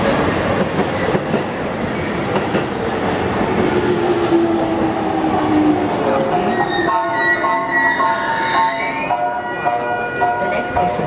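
A Tokyo subway train running toward Yoyogi station, with a loud rumble and rattle of cars on the rails, then squealing brakes and rising tones as it slows, and voices faintly present under the noise.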